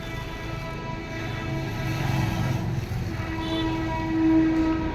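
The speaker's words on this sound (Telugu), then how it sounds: "ట్రైన్ వస్తుంది కనబడుతుందా ట్రైన్ మీకు చూడండి ఒకసారి అదిగోండి ట్రైన్ ట్రైన్ వెళ్తుంది" A train rumbles past steadily at moderate distance, with a long low drone and a brief higher tonal whine near the end.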